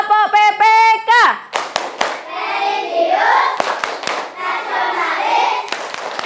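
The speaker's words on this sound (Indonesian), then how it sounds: "Coba kita tepuk PPK dulu. Tepuk PPK." A class of children in a school lesson performs a rhythmic clapping chant, with quick bursts of sung syllables punctuated by sharp hand claps, then chanted words between further claps, loud and close.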